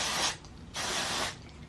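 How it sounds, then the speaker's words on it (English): Dry shampoo sprayed onto hair in two short, close aerosol hisses, each lasting about a third to half a second, with no talking. "and then I'll honestly spray dry shampoo"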